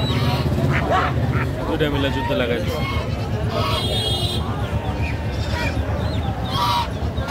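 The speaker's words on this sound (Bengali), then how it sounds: "রাজহাঁস" Domestic geese honk repeatedly amid a noisy chorus of ducks and chickens at the Jamalpur Chowrasta livestock market, with people talking over the birds throughout.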